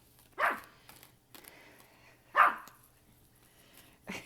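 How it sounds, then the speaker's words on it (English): A dog barks sharply twice, about two seconds apart, close by, with a third shorter bark at the end in an otherwise quiet room. "Lexi's trying to sleep and Gertrude keeps barking in her ear."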